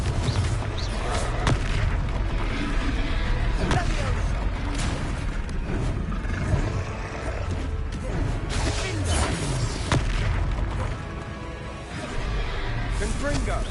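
Booming blasts from the Confringo spell in a Hogwarts video game, several heavy explosions going off over a dense, noisy battle mix, with voices calling out spells.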